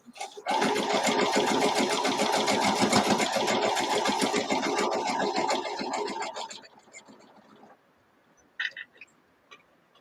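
A sewing machine stitching a quilt seam, a loud close steady whir for several seconds that slows and stops, followed by a few faint handling clicks.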